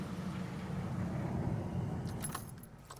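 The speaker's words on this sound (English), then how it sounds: "we want to let the vehicle run for 1 minute" A car engine idles steadily through a climate control service with foam cleaner sprayed into the evaporator, a continuous low rumble with some light metallic jingling near the end.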